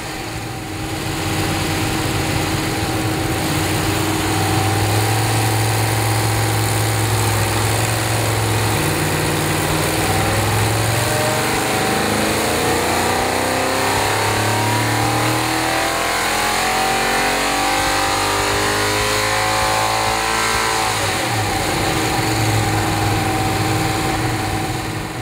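A Chevrolet V8 engine runs steadily under load on a dyno, a continuous rumbling drone with shifting harmonics as it climbs and settles, loud and close, with no talking.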